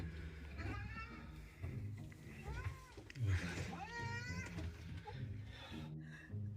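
Cats meowing repeatedly, several drawn-out, rising and falling cries from close by that overlap at times, mixed with low background rumble and a little human voice.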